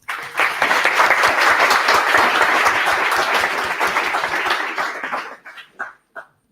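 Meetup audience bursts into sustained applause, a dense, steady wash of clapping for about five seconds before thinning to a few last claps and silence.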